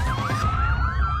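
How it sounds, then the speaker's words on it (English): A wailing siren sweeps up and down rapidly over a low rumble, loud and close for a brief moment. "A siren sounds."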